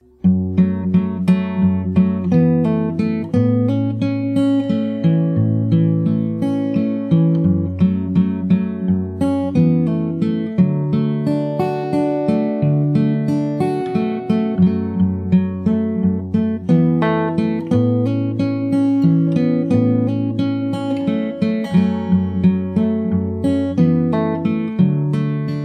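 Fingerstyle acoustic guitar plays the verse of a song, a steady picked pattern of low bass notes under ringing chord tones, continuous and close for the whole stretch with no voice.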